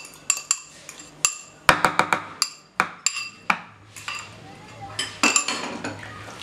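A utensil works filling into harsha semolina dough in a bowl, giving a series of sharp clinks and scrapes against the bowl in an uneven rhythm, close up and fairly quiet.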